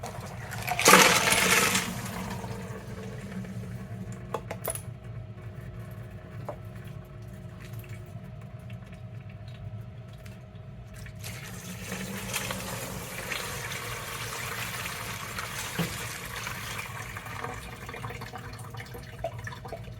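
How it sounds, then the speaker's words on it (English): Rock tumbler slurry from the second week of tumbling pours out of the barrel with a brief wet splash and rattle, then quieter dribbling and shuffling follow. "let's see what we got when pour it out"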